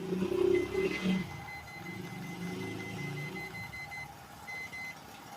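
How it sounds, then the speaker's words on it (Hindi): A microwave oven keypad being tested after repair gives several short electronic beeps in the first second or so, followed by a low background hum. "बीप की आवाज़ सारे बटन पे आ रही है"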